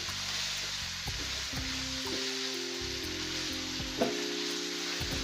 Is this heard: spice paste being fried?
yes